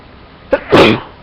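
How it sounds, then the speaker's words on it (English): A single person sneezes close by: a brief intake catch followed by one loud, forceful burst of about a third of a second, with quiet before and after. "I gotta sneeze again."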